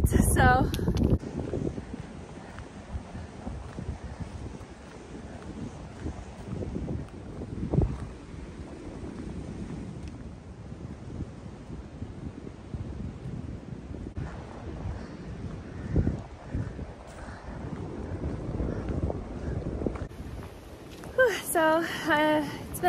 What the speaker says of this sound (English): It's super overcast and really windy